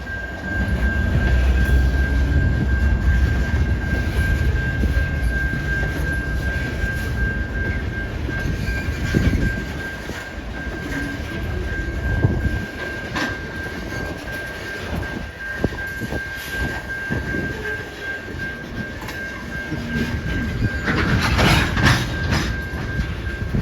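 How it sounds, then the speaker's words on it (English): A diesel freight train hauled by locomotives including a 1999 EMD SD75i rumbles past steadily in Iowa with clattering wheels and a sustained tonal hum, a horn-like whine swelling near the end. "the last locomotive, CN5784, is an EMD SD75i built in 1999"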